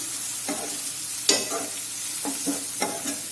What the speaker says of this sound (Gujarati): બધું બરાબર મિક્સ કરી લઈશું.